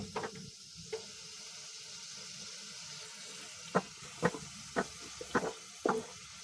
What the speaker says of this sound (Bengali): এখন আমি কষানো মশলার ভিতরে প্রথমে দিয়ে দিব চিংড়ি মাছগুলো এখন আমি চিংড়ি মাছটা মশলার সাথে ভালোভাবে